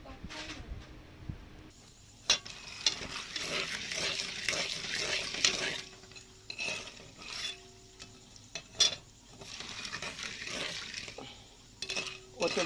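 Corn kernels with oil, spices, chili powder and salt are fried in a pan at night for popcorn, with intermittent scraping and clinking of a spoon stirring against the pan over a faint sizzle, close up, with some talking.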